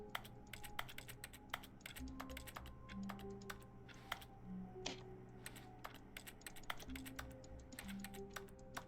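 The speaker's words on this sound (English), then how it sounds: "and it's making keyboard noises." Keyboard typing in The Stanley Parable, a quiet, irregular run of sharp key clicks, some in quick bursts and others spaced apart, heard alone over a faint low hum.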